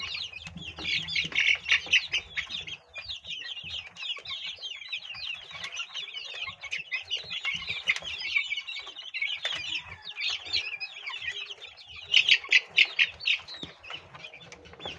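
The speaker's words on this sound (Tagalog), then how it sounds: "for egg production po ang ating mga manok" A flock of egg-laying chickens clucks and squawks continuously, busy overlapping calls with occasional wing flaps and louder bursts near the end.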